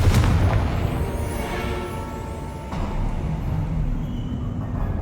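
A Confringo blasting curse in the video game Hogwarts Legacy detonates with a loud, heavy boom right at the start, then rolls into a low rumbling decay with a second swell of noise midway.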